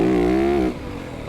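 A 2025 Yamaha YZ450FX motorcycle engine roars loudly and close with the throttle cranked, holding a steady high rev before dropping off to a lower drone.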